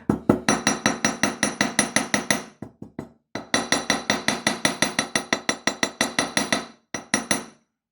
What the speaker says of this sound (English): now we can move round to hammer the petals